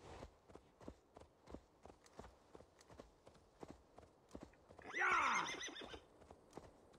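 A horse in Assassin's Creed Valhalla clip-clops along at a steady walking pace, hooves thudding evenly, and lets out one clear, loud whinny midway before the footfalls carry on.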